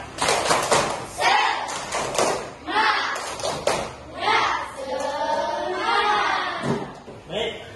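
A school class doing a rhythmic spirit clap chant, bursts of group clapping in a patterned beat mixed with children's chanting voices, close and lively throughout.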